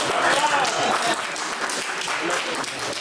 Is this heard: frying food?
no